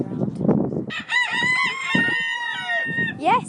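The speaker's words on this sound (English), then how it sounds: "So, yeah, there's a lot of roosters crowing." Roosters crowing among chickens at a chicken breeder, one loud, close, drawn-out crow rising and falling over soft clucking, with another crow starting at the end.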